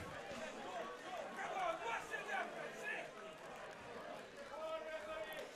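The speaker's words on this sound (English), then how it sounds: "You can hear the cry from the crowd." Football crowd at an Alloa versus Queen's Park league match cries out after a second yellow card, a broad roar of voices swelling and fading in a steady wash from the stands.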